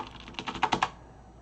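A short burst of about eight key presses on a computer keyboard, close and crisp, quickening slightly before stopping, while a Unix terminal command is entered.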